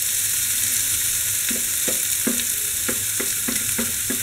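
Momo filling with green chilli sautéing in a hot pan, constant close sizzle under a run of sharp, rhythmic spoon strokes scraping the pan, no talking.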